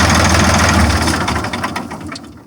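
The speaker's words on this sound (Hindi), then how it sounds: "तो भाई ये कुछ है इस ट्रैक्टर का आवाज" A loud 2002 New Holland 3230 tractor engine runs close by with a rough, chugging idle that fades slightly toward the end.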